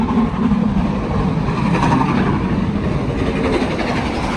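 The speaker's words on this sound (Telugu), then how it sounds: "ట్రైన్ వెళ్తుంది" A continuous loud rumble of a passing train, dense rolling noise with a faint rhythmic clatter running throughout.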